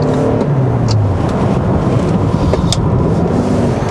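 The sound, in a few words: 2020 Toyota Avalon Hybrid car accelerating in sport mode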